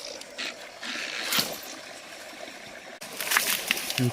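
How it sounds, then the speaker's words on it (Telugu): Water running along a channel beside village fields, a steady soft rushing with a few brief splashy bursts, fairly close in open outdoor air. "ఇక్కడ నుంచి ఏమో నీళ్ళు వెళ్తున్నాయి, అది సౌండ్ వస్తుంది."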